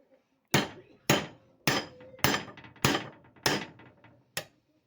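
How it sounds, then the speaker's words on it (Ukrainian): Seven loud, sharp hammer blows on a metal suspension-arm bushing of a Lada Niva, spaced about half a second apart, each ringing briefly before the next strike. "І просто працюємо гарним дебелим молотком щоб воно"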